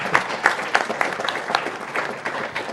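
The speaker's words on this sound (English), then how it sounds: "if you're listening to the Curry Master right there clapping" Hand clapping from a spectator at a live speedrun marathon event, a quick run of sharp claps in loose rhythm, fairly close and prominent over faint room murmur.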